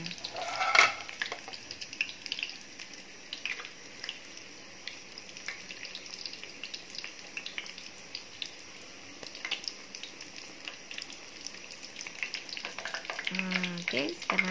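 Tofu sizzles and crackles steadily in a hot oiled pan, close and continuous, with scraping and clinks as the pieces are turned over, and brief talk near the end.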